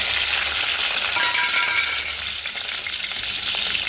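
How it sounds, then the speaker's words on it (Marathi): Tomatoes, green chilli and ginger-garlic paste frying in hot oil for a pakhat fish curry, a loud, dense, continuous sizzle close up, with faint stirring and no voices. "आता आपण तेलामध्ये मिरची अद्रक लसणाची पेस्ट आता पहिला टमाटे टाकूया आपण"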